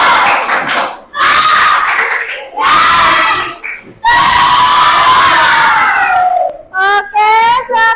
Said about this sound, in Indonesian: Tepuk semangat dulu dong,